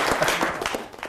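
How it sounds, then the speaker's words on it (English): Audience applause for a performer at a magic show, a brief dense patter of many hands clapping at close range. "Let's give Fonz a big round of applause."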